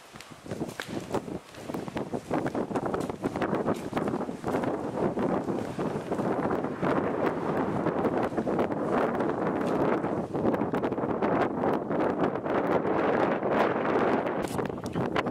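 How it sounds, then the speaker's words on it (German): Wind buffets a lapel microphone with no windscreen on a sunny, gusty day outdoors, a loud continuous rumbling roar with irregular thumps, with no speech. "Ja, es ist schon sonnig, aber auch ziemlich windig."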